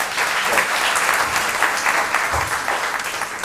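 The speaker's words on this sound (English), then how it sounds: "Give her a big round of applause." Steady applause from an audience at a business school undergraduate orientation, a dense wash of many hands clapping at even volume throughout.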